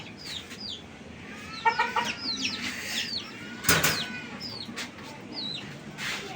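Two roosters cluck and chirp in short, scattered calls, fairly close, with a couple of louder squawks standing out above a quiet background.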